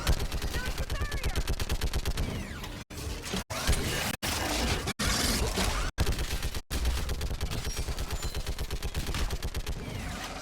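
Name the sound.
gunfire from a video game, Mass Effect 3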